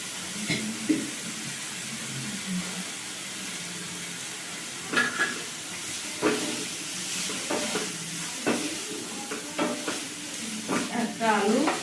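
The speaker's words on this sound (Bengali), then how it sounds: "পেঁয়াজটা ভাজা হয়ে গেছে, এই গ্রেট করা আলুটা দিয়ে দিলাম" Grated potato goes into a pan of already-fried onions, giving a steady close sizzle with bursts of scraping and stirring throughout, no voices.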